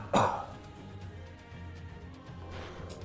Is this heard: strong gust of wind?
no